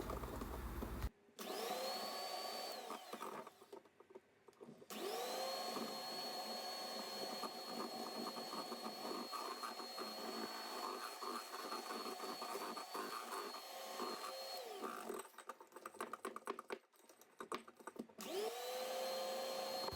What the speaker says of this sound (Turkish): tüm malzemeyi homojen olana kadar karıştıralım